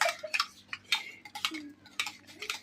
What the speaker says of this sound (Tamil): இப்போ 2வது முட்டைக்கு கலக்குறாங்க.